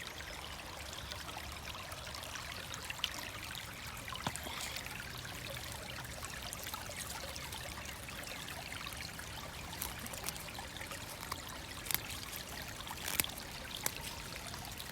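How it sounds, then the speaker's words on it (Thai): Mountain water flows continuously past a watercress patch, a faint, steady trickling stream with small splashes scattered throughout and no talking. "ไม่ใช่น้ำไหลมาจากท่อน้ำทิ้งนะคะ ไม่ใช่นะ เป็นน้ำมาจากเขา"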